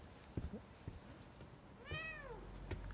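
In the horror video game The Medium, a cat lets out one clear, drawn-out meow after scattered footsteps and soft game sounds.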